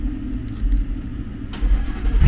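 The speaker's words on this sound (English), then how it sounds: "finna get this first cold start." A Ford Mustang GT S650 V8 fitted with long tube headers fires up from cold, a deep, loud rumbling idle that swells sharply near the end as the engine catches and revs.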